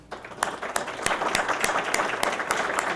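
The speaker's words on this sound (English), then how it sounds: "So please stand to our trustees who are here so we can give them a round of applause." An audience at an alumnus-of-the-year luncheon applauds trustees, a dense, steady patter of hand claps from a room full of people that holds even throughout, with no talking.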